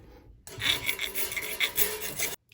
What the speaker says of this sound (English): you can just neaten it up with the file